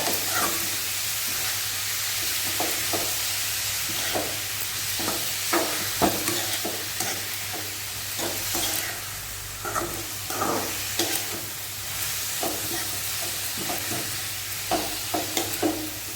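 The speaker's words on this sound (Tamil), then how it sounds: "சேர்த்து நல்லா மிக்ஸ் பண்ணி விட்டுடுங்க" Grated beetroot and cooked rice are mixed in a frying pan with a spoon. Repeated scraping and tapping strokes sound close over a constant sizzling hiss, in an uneven rhythm, with no talking.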